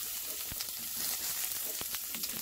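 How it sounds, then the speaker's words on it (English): Onions hit about a tablespoon and a half of hot vegetable oil, a soft continuous sizzle with a few faint clicks of the pan, fairly quiet and close. "now you're going to saute your vegetables. So I'm going to throw my onions in here"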